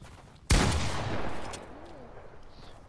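A single loud shotgun blast in a video game, a sharp close crack at half a second followed by a long decaying rumble and echo that fades out over the next two seconds.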